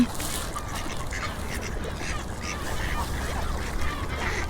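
Ducks quacking and swans honking in a busy outdoor chorus in Iceland, the calls overlapping at a moderate distance against steady background noise.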